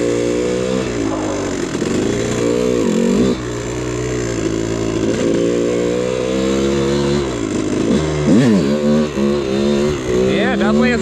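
A 125cc two-stroke dirt bike engine, nearing a crank failure, revs loud and close, its buzzing tone rising and falling through repeated throttle blips over a steady idle.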